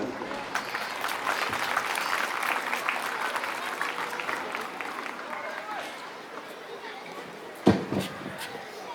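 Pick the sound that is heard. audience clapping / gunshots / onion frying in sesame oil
audience clapping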